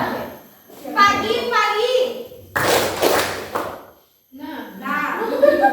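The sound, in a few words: children clapping in a concentration game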